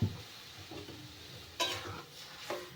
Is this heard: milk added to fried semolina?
yes